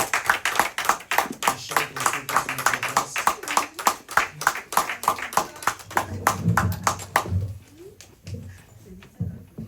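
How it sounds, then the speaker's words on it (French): A church congregation claps in a fast, steady rhythm to acclaim the glory of God, loud and close, before the clapping thins out and gives way to murmuring voices near the end. "Acclamons pour la gloire de Dieu."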